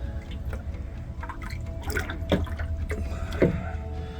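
Water drains off a gold ore sample during milling, heard as close, light splashes and trickles with a few sharper pours over a low steady background hum.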